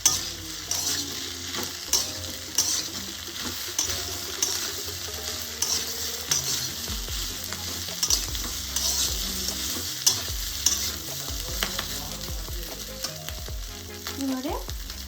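A continuous loud sizzle of fried chicken pieces cooking with onion and capsicum in a pan for homemade chili chicken, with frequent scraping strokes of a spatula and light metallic clatter, heard up close without any voices.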